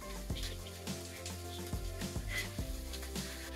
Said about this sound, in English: you're gonna need to fry your onion.